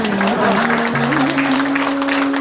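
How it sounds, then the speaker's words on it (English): An audience at a Sri Balaji Temple 25th anniversary celebration claps for a few seconds in a dense, loud burst of applause, with a sustained musical tone running underneath. "You can clap for yourself."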